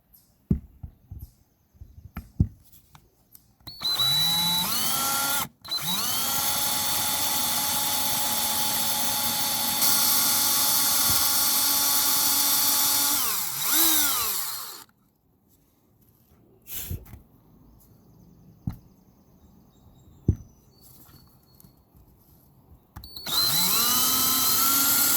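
A power drill bores holes out to half-inch diameter for mounting a bow cleat during a boat restoration, running in long loud whining stretches broken by short pauses, clicks and handling noises between runs.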